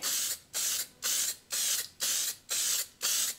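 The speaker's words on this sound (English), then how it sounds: "Here is the gunmetal grey Duplicolor spray paint." A Duplicolor gunmetal grey spray paint can hisses in seven short, evenly spaced bursts, each about half a second long, close and loud.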